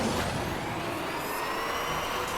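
An electric Formula E Gen 2 race car in the Asphalt Legends Unite racing game gives a steady, loud whining and rushing drive sound with a faint rising tone, heard on its own with no talk.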